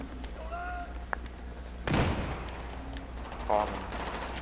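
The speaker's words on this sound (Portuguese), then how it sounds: "Tem sniper aí atirando de algum lugar." Sniper gunfire in Battlefield 4 on PS4: one sharp, loud shot cracks out midway, with a smaller report just before it and another shortly after, set against a steady in-game background hum and faint voice chat.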